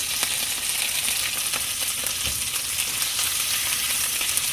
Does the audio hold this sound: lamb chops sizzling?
yes